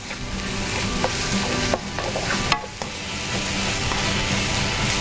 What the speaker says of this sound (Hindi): इसमें शामिल कर दिया गार्लिक, लहसुन, इसको थोड़ा फ्राई किया